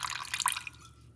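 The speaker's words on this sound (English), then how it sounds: "We're gonna put roughly about a teaspoon of apple cider vinegar." Apple cider vinegar trickles briefly into a drink at close range: a short run of drips and a small splash, then the sound quickly fades to quiet.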